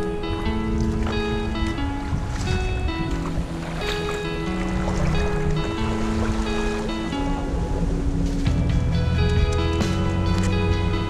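Creek water rushes and splashes continuously nearby, a steady churning flow on the Eagle Rock Loop in Arkansas's Ouachita National Forest, with sustained musical tones layered over it throughout.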